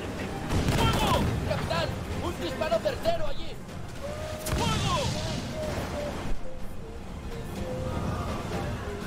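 Ship cannons fire during a naval battle in Assassin's Creed: Freedom Cry, with booming blasts and crashes over continuous battle noise and music, and someone talking over the action.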